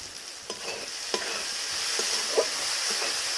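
Tomatoes and capsicum being stirred in a pan, a steady soft sizzle with a few distinct spoon scrapes and clinks spaced through the short stretch, close by and with no voices.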